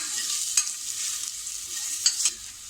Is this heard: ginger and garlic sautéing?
yes